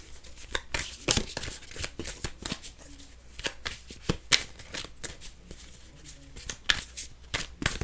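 Playing cards are shuffled repeatedly, crisp riffling bursts and flicks in quick succession, close up with no voices.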